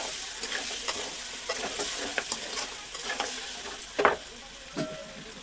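Boiled sprouts tipped into a chicken curry in a pan, with light sizzling and a run of spoon scrapes and clinks, then a louder clatter of sprouts dropping in near the end, close by.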